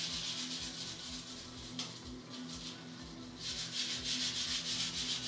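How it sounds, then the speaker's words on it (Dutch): Dishwasher tablet rubbed back and forth over a glass shower door sprayed wet with water, giving a steady, close scrubbing rasp with rhythmic strokes that swell louder toward the end, with no talking. "En dan ga je er met het blokje gewoon overheen."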